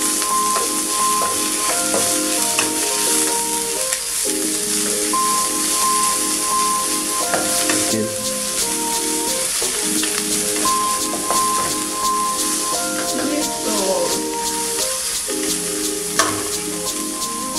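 Quelites, called chacuá, fry in a pan with a dense, crackling sizzle and occasional stirring scrapes, close and continuous with no talk.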